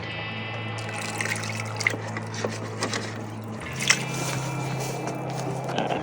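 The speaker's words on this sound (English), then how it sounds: "Add a little more water." Water poured into a feed bucket of senior horse grain at a horse farm, a soft close trickling and splashing that runs steadily for several seconds with faint clinks and light movement nearby.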